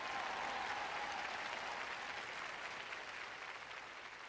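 A church congregation applauds in a continuous, soft wash of clapping heard from a distance, easing slightly toward the end.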